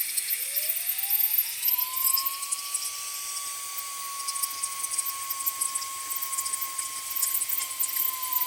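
A purfling cutter spinning up to 60,000 RPM and cutting wood on an archtop guitar, a high steady whine that rises quickly at the start and then holds level, loud and alone with no talk.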